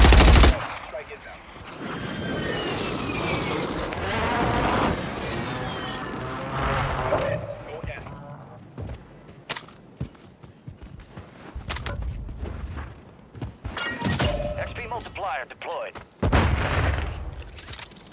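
Gunfire and heavy explosions from an airstrike in Warzone on Ashika Island, loud bursts of automatic fire and booms with sharp impacts scattered through, under in-game radio voice chatter.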